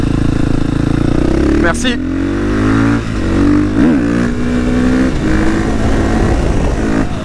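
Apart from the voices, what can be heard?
KTM 450 supermoto motorcycle engine revving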